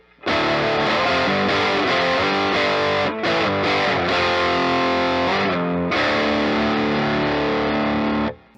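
Heavily distorted electric guitar chords ring out loud and sustained through an amp, with a couple of brief gaps between strummed phrases.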